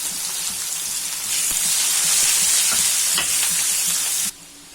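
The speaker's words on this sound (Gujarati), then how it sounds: "પેલા આપણે ડુંગળી આપણે સાતળી લેવાની છે, એકદમ સરસ બ્રાઉન કલરની આછો થાય ત્યાં સુધી" Onions sautéing in hot oil with cumin, mustard seeds and asafoetida for a spicy Kathiyawadi gathiya curry, a loud, steady broadband sizzle with occasional crackles and pops, cutting down abruptly near the end.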